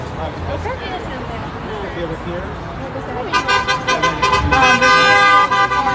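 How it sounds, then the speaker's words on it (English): Car horns honk at a street protest outside a Church of Scientology, first distant traffic and voices, then a burst of loud, overlapping toots and blares close by as people keep talking. "So far, everyone's honking."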